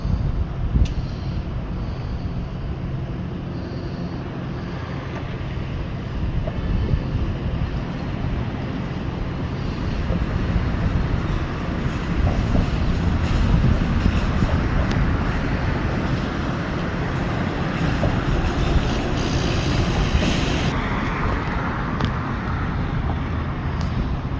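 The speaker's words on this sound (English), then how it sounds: "We got a train approaching." An approaching train in the Chicago area, heard outdoors as a long, steady rumble under strong wind buffeting the microphone, slowly building in loudness and holding through to the end with no voices.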